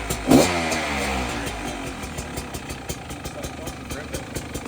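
A rebuilt motorcycle engine idles in cold weather with a steady, even low putter after a brief rev at the start, heard close by while people talk over it.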